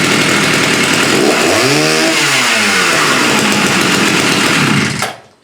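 A vintage Swedish chainsaw engine restarts and runs loud and close, revving up and down in a rising and falling whine before cutting off abruptly near the end.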